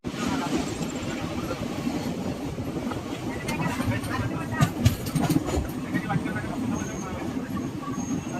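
The Andaman Express passenger train nears Khammam station, heard from inside as a steady rolling rumble with faint rhythmic clatter and some background voices.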